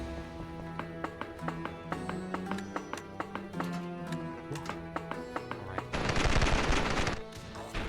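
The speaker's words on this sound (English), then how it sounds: "Ooh, grenade launcher." A grenade launcher fires in a video game, a rhythmic run of sharp evenly spaced shots over game music, ending in a loud burst of noise.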